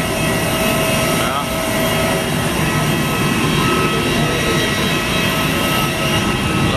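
Steady loud roar of airplane jet engines at a Nepal airport during boarding, continuous throughout, with faint voices mixed into the background.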